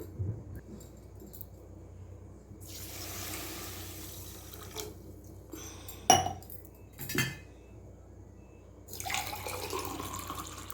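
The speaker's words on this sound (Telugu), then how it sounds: "1½ గ్లాస్ షుగర్ వేసేస్తున్నానండి. 2 గ్లాస్ వాటర్ వేస్తాను." Water is poured from a glass onto sugar in a metal pot while making badusha, a soft gushing pour between clinks and knocks of utensils against the pot, fairly quiet and close.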